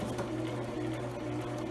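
A sewing machine stitches a lined zipper pouch, its motor running as a steady, close, even hum throughout with no voices.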